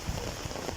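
Steady light rain falls in a soft continuous patter, alone and fairly faint, over a very short stretch.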